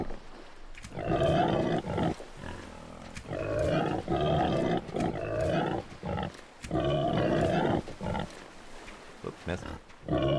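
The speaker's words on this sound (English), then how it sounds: "let's go hunt a boar." Boar grunting in the video game Under a New Sun, with repeated rough grunts and squeals in bursts, loud and close, while a person talks over it.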